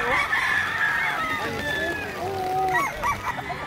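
Loud rooster crowing up close on a farm with chickens clucking and squawking around it, several overlapping calls in quick succession.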